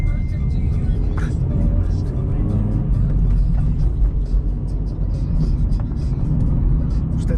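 A car driving along a road gives a steady, close engine and road rumble throughout, with no speech over it.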